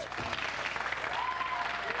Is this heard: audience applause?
yes